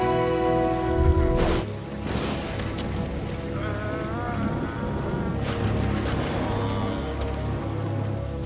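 Rain falls in a scene from the 2011 film Thor as a steady, close, even hiss that lasts throughout, with faint tonal sounds drifting over it.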